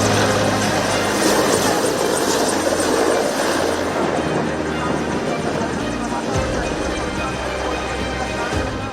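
A helicopter flying from Thiruvananthapuram airport to Kanyakumari gives a steady, loud rotor and engine roar that fills the whole stretch. The noise runs continuously with no break.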